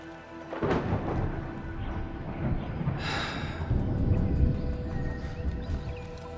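Thunder and rain in the video game Arknights: Endfield: a steady, dense wash of rainfall with a low rolling rumble, swelling briefly around the middle, continuous and fairly close throughout.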